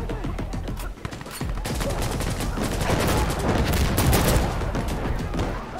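Dense, rapid gunfire from the video game Insurgency Sandstorm during night-time combat, with overlapping shots and bursts firing continuously at loud, steady intensity throughout.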